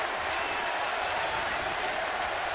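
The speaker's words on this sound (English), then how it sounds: "And Pablo Sandoval applauded that one, as we all should" A large ballpark crowd of about 42,000 at a Dodgers–Giants game applauds and cheers in a steady, dense wash of clapping that stays loud and even throughout.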